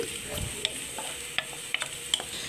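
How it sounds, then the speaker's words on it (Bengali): Chopped onions and garlic fry in a pan, a constant close sizzle punctuated by a few quick clinks and scrapes of a stirring utensil, with no talking. "নরম করে ভেজে নিচ্ছি পেঁয়াজ কুচিগুলোকে নরম করে ভেজে নেওয়ার পর আমি এর মধ্যে রসুন কুচি দিয়ে দিয়েছি"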